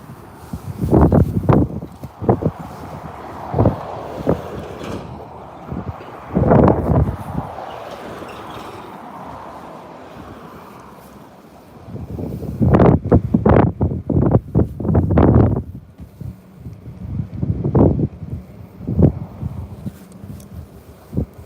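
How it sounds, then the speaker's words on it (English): Strong wind buffets the microphone outdoors during a fishing trip, a loud uneven roar with repeated gusty bursts and rumbling thumps from start to finish, with no voice heard. "Ooh, it is so windy."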